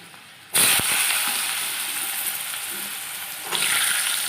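Potato pieces drop into hot oil already frying green chili and bay leaves, setting off a sudden loud sizzle that holds steady, then swells again near the end, close and without talk.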